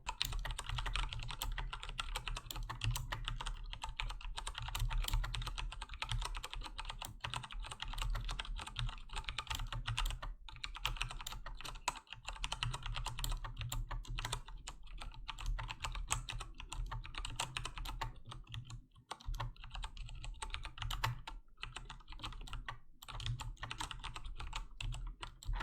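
Fingers type continuously on a HyperX Alloy Elite mechanical keyboard with Cherry MX Brown tactile switches, producing a close, dense stream of key clacks with no speech.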